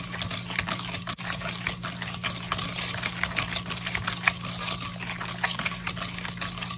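Chocolate Nutella cake batter being whisked with eggs in a bowl, a steady run of quick, close scraping taps with a constant low mains-like hum beneath, no talking.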